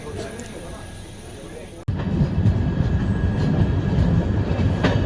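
Jan Shatabdi Express running fast on the Ahmedabad–Vadodara section, heard from inside a Vistadome glass coach: a dense rattle and clatter of wheels that grows louder after a sudden jolt, with a voice talking over it.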